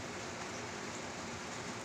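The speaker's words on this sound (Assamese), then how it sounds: "সেইফালে পানী বৰষুণে দি আছে" Rain falls in an even, soft hiss, faint and continuous with no breaks.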